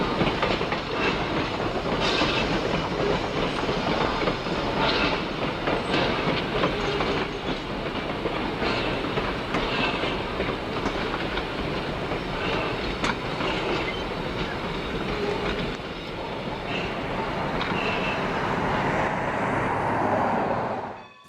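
A train rolls along railroad track at a preserved Nevada copper-mining railroad complex, a loud, sustained rumble with rhythmic wheel clatter and occasional squeals lasting about twenty seconds before fading out abruptly.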